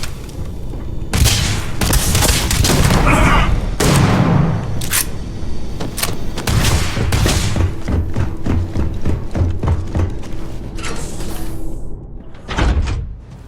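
Guns firing in the space game Starfield, a loud, dense run of sharp booming shots and bursts with short gaps between them and no voices.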